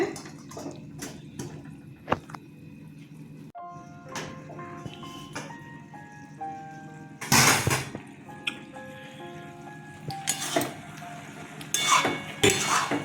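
A lid goes onto a cooking pot of bottle gourd lau jabri simmering with milk, giving several sharp metallic clanks and rattles amid softer scrapes and a quiet tonal hum.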